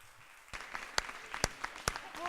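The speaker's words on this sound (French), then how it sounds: "un tonnerre d'applaudissements pour Jean-Pierre Meurant" Audience applause at a cabaret evening builds from a quiet start into a steady patter of many hands, with a few sharp louder claps standing out near the front and a brief voice rising over it at the end.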